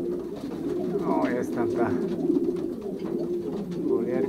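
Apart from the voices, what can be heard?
young pigeons in loft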